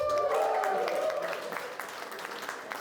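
Wedding guests applauding during the speeches at a manor venue, a steady wash of clapping that starts fairly full and slowly thins out, with a voice and other sounds mixed in at the start.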